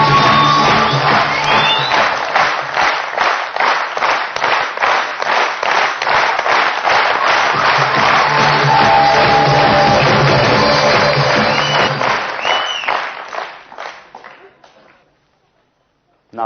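A large seminar audience applauds loudly and steadily in a rhythmic, unified clap that goes on for about thirteen seconds, with scattered whoops. It tapers off into brief silence before a sound at the very end.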